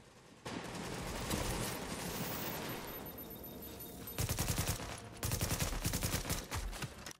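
Bursts of automatic gunfire from The Division, a sustained rattle of shots followed by two louder, denser volleys near the end, with no talking.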